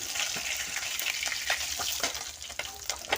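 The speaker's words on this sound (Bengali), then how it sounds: "আর এক পিঠ ভাজা হয়ে গিয়েছে আর একটু ভাজা হোক মাছটা ভাজা হয়ে গেছে" Pomfret fish fries in hot oil in a pan, giving a steady close sizzle with crackling pops and a few clinks of a utensil throughout, with no voices.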